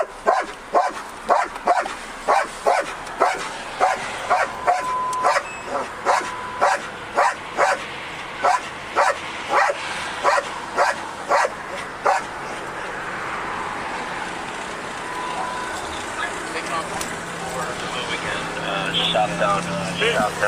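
A police dog barks at a traffic stop, loud and close, in a steady run of evenly spaced barks for about twelve seconds before it falls quiet, leaving vehicle and road noise.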